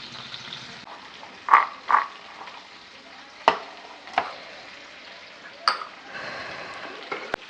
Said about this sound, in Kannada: ಒಂದು ಕಡೆ ಫಿಶ್ ಫ್ರೈ ಆಗ್ತಿದೆ